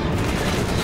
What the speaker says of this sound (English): it's a tank shooting at me